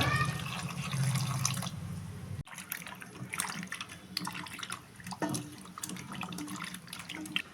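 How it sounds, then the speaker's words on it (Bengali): Pieces of cut katla fish are rinsed by hand in water, with splashing and sloshing up close, a faucet-like run of water early on, then a sharp break and softer intermittent swishes and drips. "জল দিয়ে ভালো করে ধুয়ে নেব"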